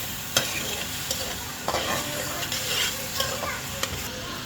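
Chicken with black pepper sizzles steadily in a pan while a utensil stirs it, giving a constant frying hiss broken by occasional sharp scrapes and clinks, close and moderately quiet.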